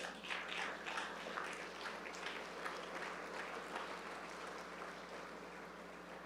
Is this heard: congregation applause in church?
yes